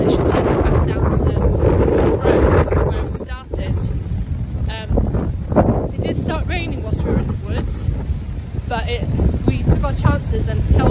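Strong gusts batter the microphone on a countryside walking trail at Claverton Down, a National Trust site, roaring and buffeting almost nonstop while a person talks over the wind.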